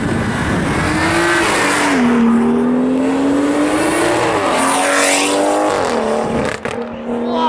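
A supercar engine at a Grand-Est supercar gathering in November 2018 revs loudly and accelerates, its pitch rising, dipping and climbing again, close by and dominating throughout.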